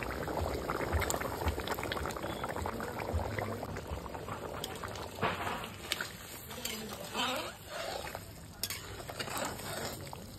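A pot of local country duck meat curry simmers and bubbles in a steady, faint, close-up wet crackle, with occasional louder pops and no talking.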